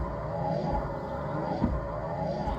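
Windshield wipers running on a 2000 Chrysler Grand Voyager with new blades after long storage, a loud, steady mechanical drone from the motor and linkage that continues without a break.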